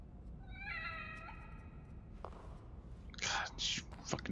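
A cat in The Evil Within meows in a short rising-falling call, clear and close, followed by footsteps and bursts of a voice.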